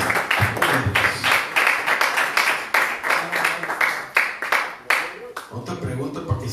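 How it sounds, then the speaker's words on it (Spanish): A church congregation claps in steady rhythmic applause, loud and close, with voices mixed in. "Den un aplauso fuerte al Señor Jesús."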